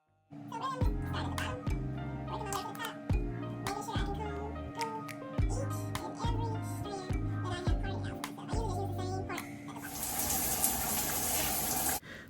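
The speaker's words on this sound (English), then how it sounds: "So once I detangled all of my hair, I am now washing it." Water runs from a tap while hair is washed, a steady rushing hiss that starts only near the end, coming in after music and a person talking.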